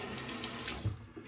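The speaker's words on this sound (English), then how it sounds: "Lather just rinses off." Running tap water splashes steadily as shaving lather is rinsed off the face, a close, continuous flow with a small splash near the end and no talking.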